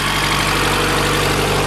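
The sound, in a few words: Honda CRX Si engine idling after Type R engine swap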